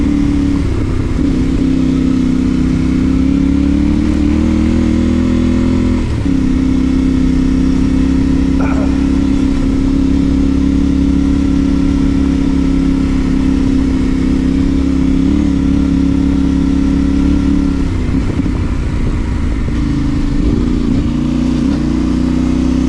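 A car rolls along a gravel road during an Appalachian endurance rally, a loud, steady engine drone with constant road rumble from inside the vehicle, shifting pitch slightly a couple of times.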